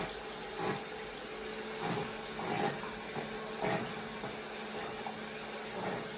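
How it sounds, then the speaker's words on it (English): An electric whisk whips an ice cream mixture in a bowl, giving a quiet steady motor whir with regular surges as the beaters work through the mix. "we're going to whisk that with the electric whisk"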